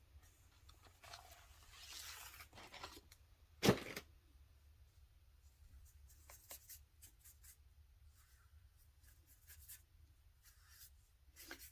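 A pen scratches and scribbles on paper, doodling in a mushroom-themed junk journal, with quiet irregular strokes and rubs close up, one sharper tap partway through, and no voices.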